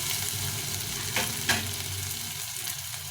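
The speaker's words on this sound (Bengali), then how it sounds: "একটু লাল করে ভেজে নেব পেঁয়াজটাকে" Onions fry in a pan with curry leaves, a steady close sizzle and crackle running throughout, broken by a couple of brief stirring scrapes.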